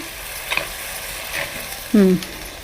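Ginger garlic paste fries in a clay pot over a wood fire with a steady soft sizzle, a couple of stirring taps and scrapes close by, and a brief voice sound near the end.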